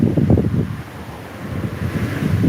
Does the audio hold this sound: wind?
yes